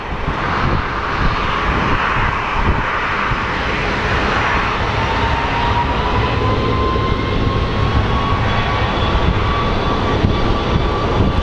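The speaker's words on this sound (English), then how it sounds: "The engines are creating some serious power right now." An airliner's jet engines roar steadily at takeoff power at an international airport, a loud, sustained rushing drone with a faint rising whine and no talk.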